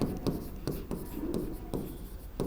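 A pen or pencil writes on paper up close, producing soft scratchy strokes broken by short taps and pauses between words, quiet and continuous with no talking.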